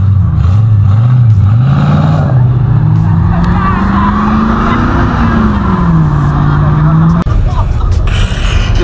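A loud truck engine revs hard during a burnout at a car meet and holds high, wavering pitch for several seconds, then drops, with crowd chatter around it.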